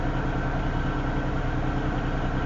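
An NS diesel locomotive stands idling at the head of a Union Pacific stack train, its engine revving up while stationary. The low, steady throb is loud and close, with unbroken mechanical rumble through the whole stretch and no speech.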